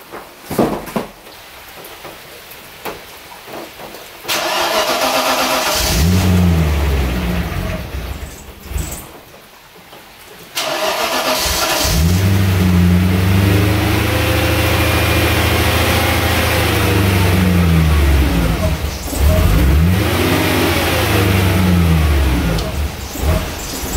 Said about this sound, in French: Voilà comment la voiture fonctionne avec le nouveau débitmètre en place.